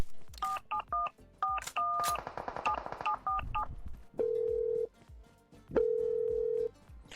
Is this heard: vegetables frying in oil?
no